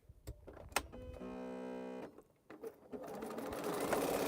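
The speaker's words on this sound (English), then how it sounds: "I'm just going to lay a piece on here and sew until this strip is full" A sewing machine stitches fabric scraps onto a strip for mile-a-minute quilt sewing, running in a steady close burst for about a second, then starting again and running on with a rising whir.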